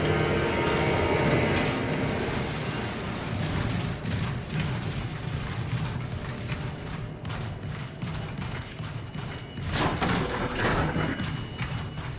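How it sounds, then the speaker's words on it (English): Trains in a tunnel in the video game Transformers: War for Cybertron make a constant heavy rumble, loud and close, with scattered metallic thumps and clanks and no talk. "try not to get crushed by the trains"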